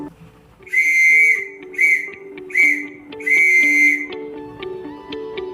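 A piercing Morse code beep pattern for the letter X, long, short, short, long, sounding clearly above quiet background music.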